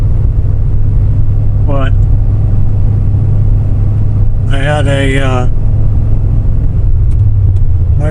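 A finished C4 Crossfire Corvette from the 1980s with a four-speed shifter is out on a road test. Its engine drones in a steady, loud rumble heard from inside the cabin, with someone talking over it.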